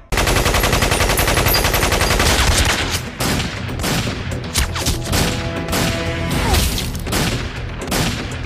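Heavy gunfire erupts in a Metal Gear Solid game cutscene, with loud sustained automatic bursts at first, then scattered shots, impacts and crashes.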